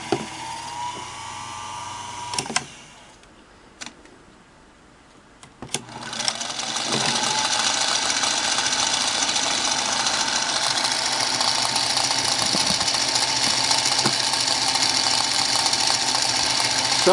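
A Singer 221 Featherweight sewing machine runs on a new V-belt motor belt, a few clicks and a quiet pause giving way to a steady, loud mechanical whir that holds evenly to the end.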